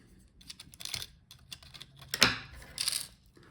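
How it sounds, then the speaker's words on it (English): A small screwdriver takes a single screw out of a Dell Precision 3570 laptop's Wi-Fi card. Faint, close clicks and light metallic taps come in short irregular bursts, with one sharper tick near the middle. "Take out one screw."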